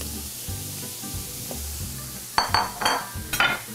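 Napa cabbage and shrimp stir-frying in a pan: a steady sizzle runs throughout, with sharp utensil scrapes and clinks against the pan in quick bursts toward the end.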